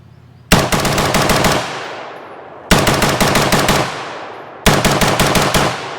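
Colt M16A2 / FN M16A4 rifle firing three loud bursts of rapid automatic fire, each rattling string of shots trailing into a brief echo before the next burst.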